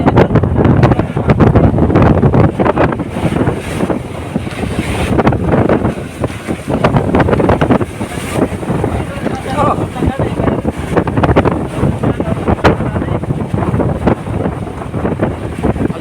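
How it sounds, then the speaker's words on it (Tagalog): Strong northeast monsoon wind buffets the microphone in loud, roaring, storm-like gusts over open water, with constant rumbling turbulence throughout. "Lakas ang hangin mga idol, parang bagyo."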